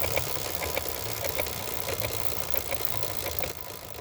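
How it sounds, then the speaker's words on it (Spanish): A motorcycle chain makes a quiet, rapid rhythmic clattering and ticking over a low engine hum, then drops slightly softer near the end. "La cadena de tu moto hace este ruido"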